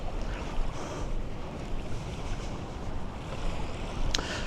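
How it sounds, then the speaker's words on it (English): Ocean surf along the Great Ocean Road, a steady roar of waves mixed with strong wind buffeting the microphone, continuous and loud throughout. "Got the ocean off to my other side."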